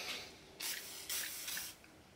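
A cleaner is sprayed onto the threads of a swamp cooler in three short, crisp hissing bursts, close and fairly quiet, with no voices.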